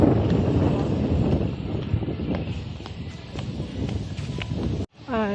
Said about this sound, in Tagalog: Mahangin na umaga.